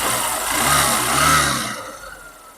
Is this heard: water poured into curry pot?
no